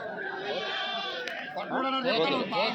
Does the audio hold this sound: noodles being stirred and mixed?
no